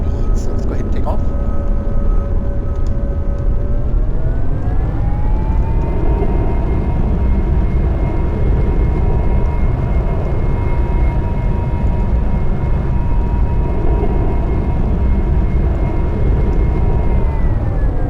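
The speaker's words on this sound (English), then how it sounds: "So let's go ahead and take off." An airliner in the X-Plane 11 flight simulator rolls for takeoff at Reagan National Airport, with a steady, loud engine roar and a rising whine that climbs in pitch, then holds a constant drone throughout.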